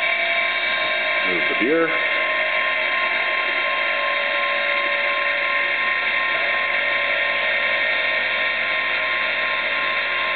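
Sherline CNC mill under EMC2 control making a rapid 27 inch-per-minute move, a steady high motor whine that holds unbroken throughout, with a single brief word spoken near the start.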